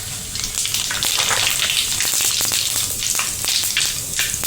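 Mustard seeds and cumin crackle and sizzle in hot oil for a pakora recipe, a close, dense frying hiss broken by sharp popping bursts throughout.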